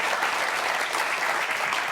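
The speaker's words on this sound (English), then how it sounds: "Let's give a warm Hannity audience welcome" Studio audience applause welcoming former Vice President Mike Pence on a TV talk show, a steady, dense wash of clapping from a crowd, even and sustained without pauses.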